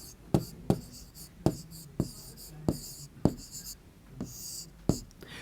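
Chalk or marker strokes on a classroom board during a class 5 maths lesson, a sharp tap at the start of each stroke, repeating in an irregular rhythm, close and fairly quiet with no talk.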